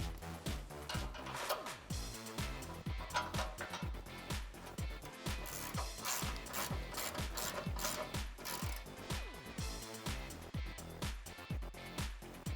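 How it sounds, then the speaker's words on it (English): Rapid ratchet wrench clicking in steady bursts as an 18mm socket tightens bolts on a Barricade HD off-road front bumper for a 2013-2018 RAM 1500, close and loud with no talking. "I'm going to be using an 18mm socket and an 18mm wrench."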